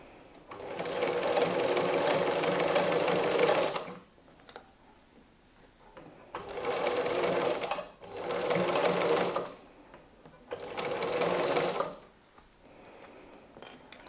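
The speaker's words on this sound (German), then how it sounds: "Diese lange Naht nähen wir nun einmal unter der Nähmaschine." Sewing machine stitching a long seam through a thick fabric section of a Halloween pumpkin basket, running in three loud sustained bursts with short quiet pauses between, no talking.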